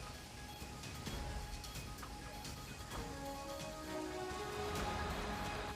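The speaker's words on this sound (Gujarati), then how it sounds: "ગઢિયા, નાગદરા સહિતના ગામોમાં ધોધમાર વરસાદ નોંધાયો।" Heavy downpour over villages in the Amreli district of Gujarat, a steady dense wash of rainfall drumming on surfaces, continuous and fairly loud throughout with no voices.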